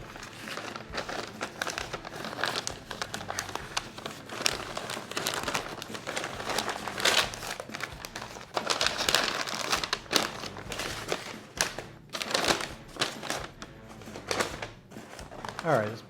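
Butcher paper crinkles and rustles in repeated bursts as beef ribs are wrapped, close and moderately loud, with someone talking in between.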